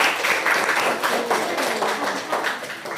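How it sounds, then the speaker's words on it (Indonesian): Applause for a student group at a teacher professional education session at an Islamic university in Ponorogo: steady, dense hand clapping from a roomful of people, fairly close and even throughout, with faint voices mixed in. "Tepuk tangan untuk kelompok A."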